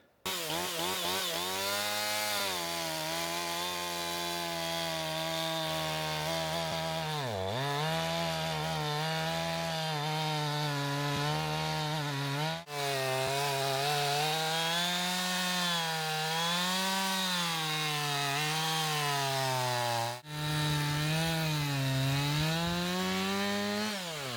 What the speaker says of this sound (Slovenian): Po 3 urah konstantnega dela brez pavze mi je uspel razžagati do konca tole drevo